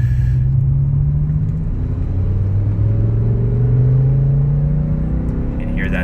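BMW M6 with a V10 engine droning steadily while driving in traffic, a low continuous rumble with a slowly rising tone as it pulls, close and loud inside the cabin.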